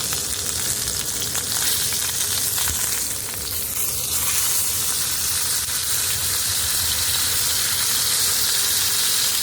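A New York strip steak coated in Montreal steak seasoning sizzles steadily outdoors at a boondocking camp, a loud, dense, continuous frying hiss with no talking.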